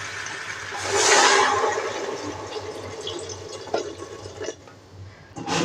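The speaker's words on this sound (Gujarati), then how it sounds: "આપણે પાણી નાખી દઉં" Water poured into a pan of desi undhiyu, the mixed vegetable dish fried in oil with undhiyu masala, makes a fairly loud rushing splash that swells early, then settles into softer bubbling with a few sharp clinks.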